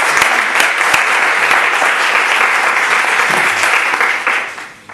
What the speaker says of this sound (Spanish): Y le podemos dar un aplauso